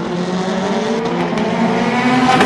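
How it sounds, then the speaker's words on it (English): Rallycross race cars making nigh on 600 brake horsepower roar past at full throttle, a loud, sustained engine drone with rising revs and some tire noise, no talking over it. "Nigh on 600 brake horsepower from these cars. They are rocket ship fast."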